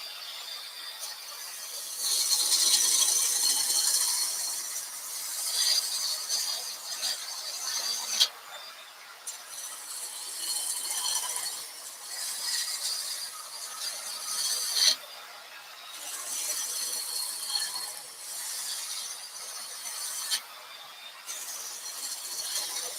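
Wood lathe spinning at a raised speed while a tool cuts the turning wood, giving a continuous close rasping, scraping hiss that swells and eases with brief pauses between passes.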